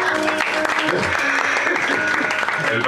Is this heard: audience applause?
yes